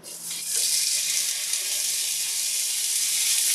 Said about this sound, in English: I just got some butter in the pan, and that's basically it. So I'm gonna let these cook on each side.